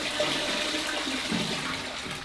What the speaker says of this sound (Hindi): यहाँ से पानी आएगा, यहाँ से आप फ्लश कर सकते हो